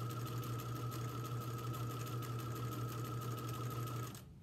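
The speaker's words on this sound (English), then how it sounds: "So then we just sew down." A sewing machine runs steadily as it stitches down fabric, a continuous close motor hum with a rapid needle rhythm lasting about four seconds before stopping abruptly, with no talking.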